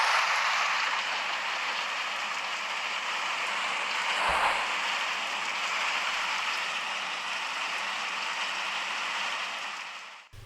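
Steady rain falls outdoors as a continuous, even hiss that carries on without a break, with a brief thump partway through.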